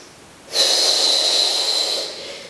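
A single forceful breath pushed out through the nose or mouth during a Pilates mat kick exercise, close and fairly loud, a steady hissing rush lasting about a second and a half before tapering off, with no talking.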